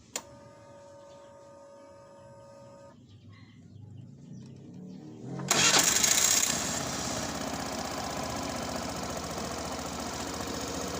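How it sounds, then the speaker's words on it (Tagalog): A Suzuki Burgman Street scooter engine idling after an ISC reset, starting quiet with a steady tone, then revving up louder before settling into a continuous close, even running hum. "So testing natin kung meron na siyang idle"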